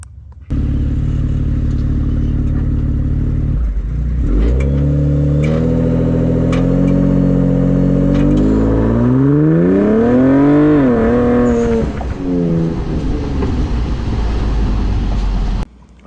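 A Ford Explorer ST launching from 2,000 RPM, its engine droning loud and steady before climbing through rising, sweeping revs as the SUV accelerates, then holding a sustained roar close by.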